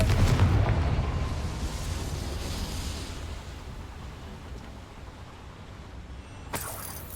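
The Confringo blasting-curse spell explodes in the Hogwarts Legacy video game. It opens with a loud, deep boom that slowly fades into a rumbling tail, and a second, sharper burst follows near the end.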